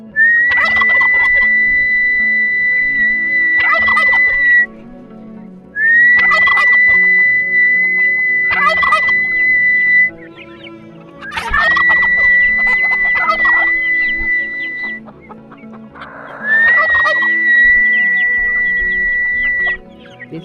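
A person gives long, high, repeated calling cries in a rural Zimbabwean village to summon chickens and turkeys to feed, four drawn-out calls in a row with fowl clucking and gobbling in between, loud and close.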